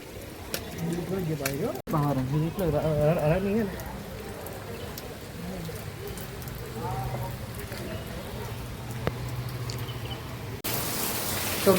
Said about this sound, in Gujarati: વરસાદ અચાનક જ ફૂલ ચાલુ થઈ ગયો